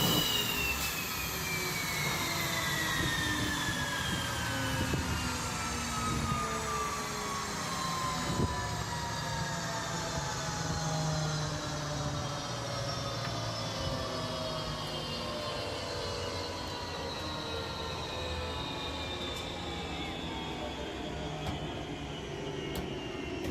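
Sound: MiG-29 fighter jet engines running on the ground

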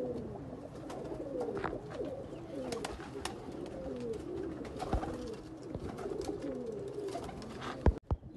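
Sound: pigeons cooing

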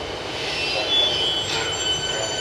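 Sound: Siemens train arriving at Westall station, bound for Pakenham

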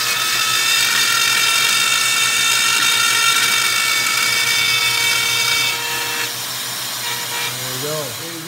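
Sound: power tool cutting a slot in aluminum for a hitch

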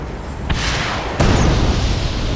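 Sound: explosions in video game Red Alert 2 Mental Omega

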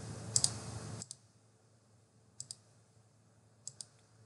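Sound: computer mouse clicks

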